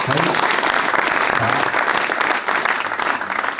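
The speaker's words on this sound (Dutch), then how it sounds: "En dat mag ook wel even voor klappen." A crowd applauds to welcome Sjoerd Knol, deputy of the province of Friesland, at a Bildt culture prize presentation: dense, steady clapping fills the whole stretch, close and loud, with a few faint voices mixed in.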